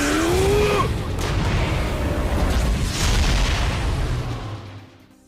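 A massive sun explodes in the Seven Deadly Sins: Grand Cross video game, a loud sustained roaring blast with a whooshing sweep at the start that holds steady and then fades out.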